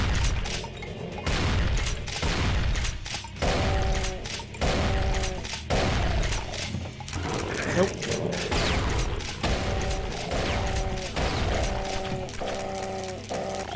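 Shotgun blasts in the video game Brutal Doom, a series of heavy booming shots at an irregular pace, each followed by mechanical pump and reload clacks, amid game music and effects with a voice talking.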